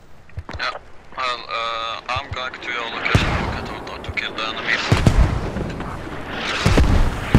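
Mortar and artillery rounds in the Squad video game, Middle East Escalation mod, land as heavy booming blasts with rumbling aftermath, several impacts in the second half, while voices talk over the battle.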